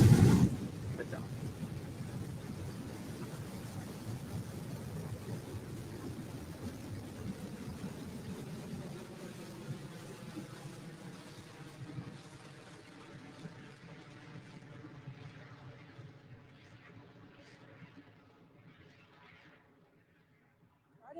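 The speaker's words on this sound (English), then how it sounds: "that BE3 engine rumble really coming through as the vehicle approaches" A Blue Origin BE-3 rocket engine at liftoff from Launch Site 1, heard from a distance as a deep, broad rumble that swells at the start and slowly fades over about twenty seconds.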